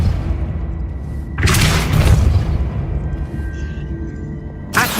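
A Depulso force spell cast in the Hogwarts Legacy video game, a loud booming thud bursting out over a low rumbling game background, followed later by a second brief impact near the end.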